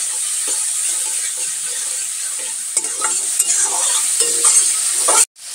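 Tomatoes with salt frying and sizzling in a pan, a steady close hiss with light stirring clatter throughout, cut by a brief dropout near the end.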